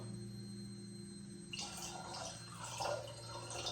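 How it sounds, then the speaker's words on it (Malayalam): A yeast and sugar mixture is poured into grape wine, a soft liquid splash and trickle starting midway after a quiet hum, close and faint. "അപ്പോൾ നമ്മൾ ഇത് ഇനി ഇതിലേക്ക് ഒഴിച്ചു കൊടുക്കും കേട്ടോ"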